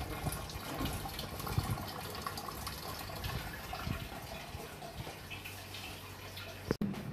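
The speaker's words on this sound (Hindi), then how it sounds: "ये अंदर से सारा गीला पानी गिरता हुआ दिख रहा होगा" Water trickles and splashes steadily through the wet cooling pad of a room air cooler, a soft continuous patter close by with one brief knock near the end.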